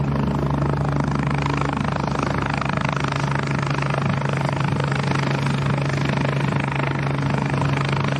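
A helicopter roars steadily up close as it takes off from an airfield, a loud continuous rotor and engine drone with no breaks.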